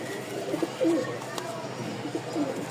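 Lotan pigeons coo softly several times, low throaty calls in short bursts over a quiet background hum.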